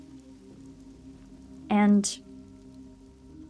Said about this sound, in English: The rain patters against the rooftops